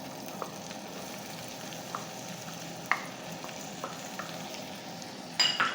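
Chopped medium-sized onion frying lightly in melted butter: a quiet, steady sizzle with scattered soft crackles and a few light utensil taps. The last taps come close together near the end, with no talking.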